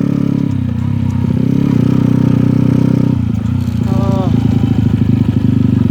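A mini bike engine drones loud and steady while riding, with a constant low rumble and small shifts in pitch as it moves along.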